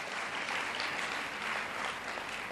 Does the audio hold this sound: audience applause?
yes